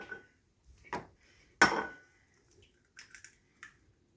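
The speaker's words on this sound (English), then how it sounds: "Take the eggs out of the bowl you placed them in. And now we have to break them." Eggs are cracked against a hard kitchen surface, a few isolated, close taps and one sharper crack, with quiet gaps between them.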